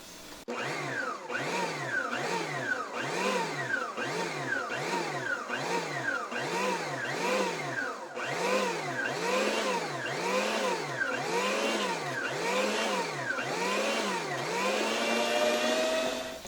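An electric mixer beats orange cake batter, giving a steady close whine that rises and falls in a regular cycle roughly every second. It keeps going for about sixteen seconds, then speeds up briefly before stopping.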